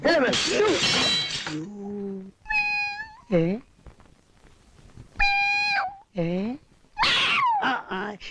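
A cat meows several times in clear, drawn-out calls with short gaps between them, loud and close. Bursts of people talking sit between the meows.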